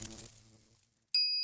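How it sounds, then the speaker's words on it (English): A bright electronic ding rings out once near the end, marking a D-mail being sent in the Steins;Gate ELITE video game, following a fading rumble of electrical discharge. "Ding! The D-mail was sent."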